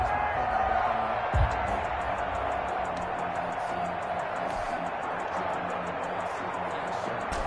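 Stadium crowd noise in a PS4 football video game, heard as a steady, dense roar during a third-and-goal situation. The noise holds at an even level throughout, with a brief thump early on.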